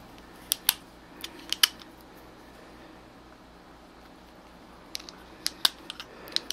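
A UTG rifle bipod's foldable legs being handled and clicked into their locked position, heard as sharp close metallic clicks and snaps in two clusters separated by a quiet pause.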